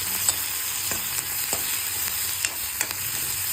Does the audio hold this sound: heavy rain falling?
no